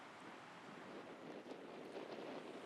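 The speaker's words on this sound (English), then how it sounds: "they particularly like the beach where the waves wash up" Ocean waves wash up on a sandy beach at Kouchibouguac National Park, heard as a faint, steady roar of surf with gentle swells and no voices.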